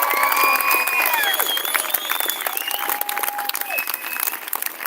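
A crowd at a Convoy to Canberra gathering claps loudly and steadily, with whistles and whoops cutting through, fading slightly toward the end.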